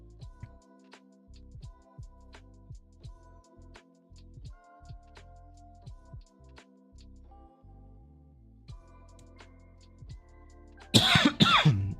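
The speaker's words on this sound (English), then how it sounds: "I'm ill. I will be coughing." A person coughs in a sudden loud burst of several harsh coughs near the end, following a long stretch of quiet clicking and soft tapping.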